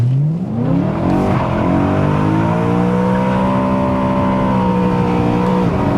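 A BMW E92 M3 with traction control off accelerates hard, its engine note climbing steeply, then holding a loud, high rev, with tire squeal mixed in, close and without talk.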